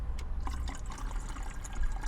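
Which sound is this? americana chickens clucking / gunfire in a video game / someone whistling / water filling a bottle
water filling a bottle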